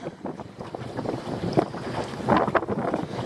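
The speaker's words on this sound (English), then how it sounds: "that wind's a hell of a lot stronger than they predicted. Listen to that." A strong offshore wind gusts across open water near a boat, buffeting the microphone in rough, swelling roars that peak toward the end, with no talk.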